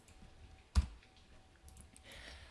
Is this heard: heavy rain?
no